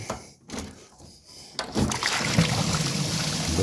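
Coolant gushes from a loosened radiator hose on a Willys Jeep, a few quiet handling noises first and then a loud, steady splashing pour up close.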